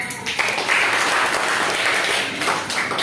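Students in a classroom applaud a classmate's answer, a steady, close wash of clapping lasting about three seconds, with faint voices mixed in.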